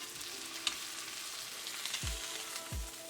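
Steak sizzling in a hot pan, a steady close frying hiss with a couple of low thumps near the end as the pan or meat shifts.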